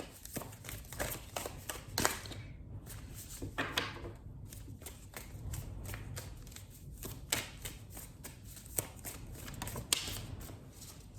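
Tarot cards being shuffled and drawn by hand, faint soft riffling and flicking with irregular taps and slides, close and quiet.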